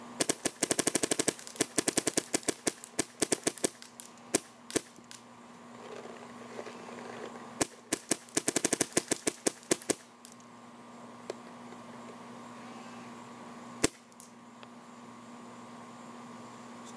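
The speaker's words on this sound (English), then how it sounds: "Just go ahead and shoot over here. This is on PSP ramp" An Insight NG paintball marker with a soft shot bolt fires on PSP ramp mode at 12.5, giving fast, loud bursts of popping shots in several strings separated by short pauses, followed by a single late shot.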